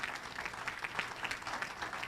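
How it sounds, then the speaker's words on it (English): A round of applause for the awardees at an IABC USA International Women's Day 2021 celebration, even crackling clapping from an audience, soft and steady throughout. "one round of applause for all the awardees here tonight"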